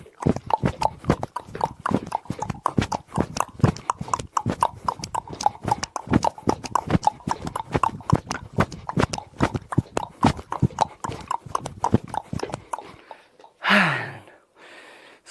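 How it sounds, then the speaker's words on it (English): A horse runs very fast, its hoofbeats a rapid, steady clip-clop that continues for about thirteen seconds and then stops, followed by a short breathy sound. "The horse is running very fast."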